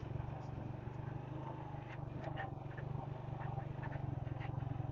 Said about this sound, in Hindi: इंजन कोई स्टार्ट हुआ हुआ अंदर,